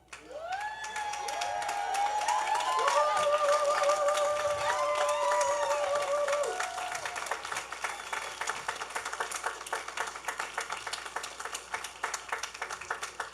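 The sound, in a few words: audience applauding the graduating class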